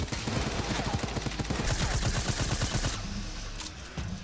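Rapid automatic gunfire in a Fortnite Battle Royale tournament match, a dense burst of fast repeated shots that stays loud and continuous before thinning out near the end.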